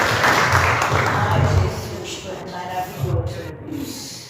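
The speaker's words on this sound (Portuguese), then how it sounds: "E as palmas louvem ao Senhor" A church congregation applauds in praise, a dense wash of clapping that swells early and then thins, with a voice over it.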